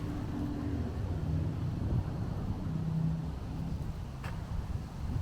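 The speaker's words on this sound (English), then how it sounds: "It's getting quite windy right now" Wind rumbles and buffets against the microphone in a steady low roar outdoors at a street festival in Bensonhurst, Brooklyn, with faint traffic-like hum underneath.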